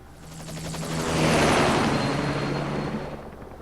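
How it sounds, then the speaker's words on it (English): A helicopter in Metal Gear Solid V swells in with loud, beating rotor thump, peaks close by, then eases slightly, with no talking over it. "Just get in the chopper."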